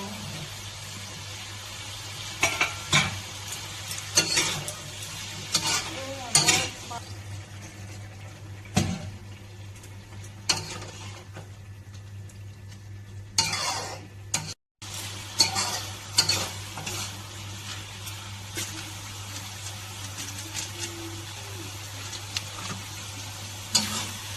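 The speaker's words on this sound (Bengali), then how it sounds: "কষানো হয়ে গেছে, এখন দিয়ে দেবো এঁচড় আর আলু।" Jackfruit and potato sizzle softly in a pan as a utensil stirs and scrapes through them in repeated bursts, with a steady low hum underneath throughout.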